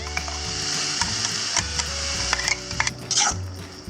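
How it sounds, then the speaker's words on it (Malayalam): Green chillies and curry leaves sautéing in a pan, a steady hiss of frying with intermittent clicks and scraping stirs over about four seconds, with no talking. "ഇതൊന്ന് ഞാൻ വഴറ്റിയെടുക്കട്ടെ."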